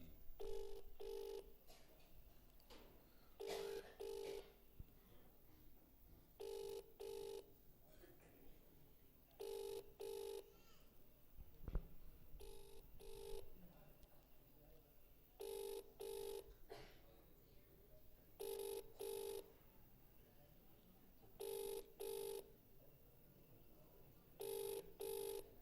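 Telephone ringback tone on a call, repeating in regular paired bursts over roughly 25 seconds, moderately loud against a faint background of low murmuring.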